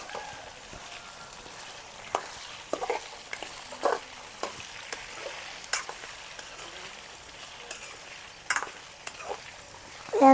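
Potatoes frying in oil in a pan for a village-style potato brinjal curry, with a quiet continuous sizzle punctuated by repeated scraping clinks of a spatula stirring them, irregular and close.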